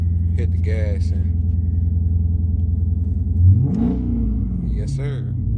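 A 2012 Chrysler 300S with a 5.7 Hemi V8 and a throttle response fault idles with a steady low rumble, then revs once as the gas is pressed and drops back, while people talk nearby.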